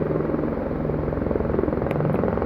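A helicopter flies over a flooded stretch of the Trishuli river area in Nuwakot during rescue operations, its loud, steady rotor thump and engine drone filling the short stretch without any voices.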